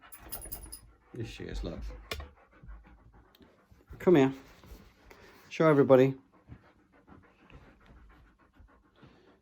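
A dog pants loudly in bursts indoors, its breathing alternating with a voice calling and coaxing it; the panting is close and clear, with faint jangling in the background.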